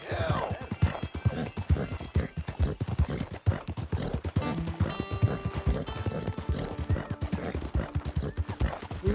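Rhythmic clip-clop of horse hooves at a steady gait in the video game Red Dead Redemption 2, close and fairly loud, with a voice now and then.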